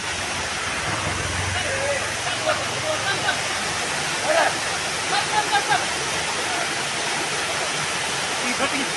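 Monsoon-swollen Charmadi waterfall at Mudikkara overflows in a loud, unbroken roar of rushing water, with people's voices faintly audible over it.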